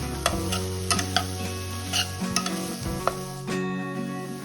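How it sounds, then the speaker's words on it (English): Two medium-sized sliced onions fry in a pan for pepper chicken gravy, giving a steady close sizzle punctuated by sharp stirring clinks and scrapes. "I'm then going to fry this well for around 3 to 4 minutes"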